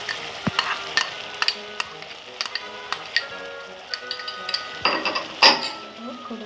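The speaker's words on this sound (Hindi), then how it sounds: "और थोड़ा देर भूनेंगे इसको।" Ground onion and ginger-garlic paste frying in a pan for village-style chicken jhol, a soft sizzle under frequent sharp clinks and scrapes of a spoon stirring against the metal, with one louder knock near the end.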